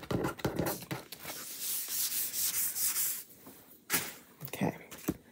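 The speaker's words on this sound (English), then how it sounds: "So we're just going to kind of rub our wipe" Wipe rubbed over a Chalk Couture chalk stencil board, sides done by hand, giving soft scratchy swishing strokes close up, with one sustained scrub and a few short rubs near the end.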